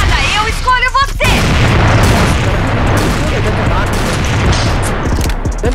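A loud, booming grenade explosion in the game CrossFire bursts after a shouted voice, followed by sustained rumbling and crackling noise.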